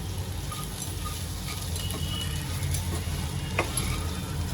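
Chopped okra is stirred in a hot pan with roasted ground peanut powder for a spicy Maharashtrian okra dish, giving a steady close sizzle with scraping stir strokes and a brief clink near the end.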